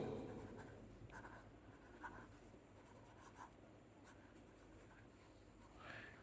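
Pen or marker writing out a maths matrix entry, a series of soft scratchy strokes and small taps spread across the stretch, faint and close with no voices.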